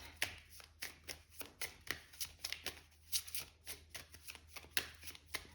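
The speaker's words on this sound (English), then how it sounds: "Let's pull some more cards." Tarot cards are shuffled and pulled in a quiet room, a quick run of soft, crisp riffling flutters and taps repeating close by with no talking.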